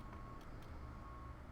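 A truck's reversing beeper sounds faintly in the distance, a steady tone that repeats under a low background rumble and stays quiet throughout.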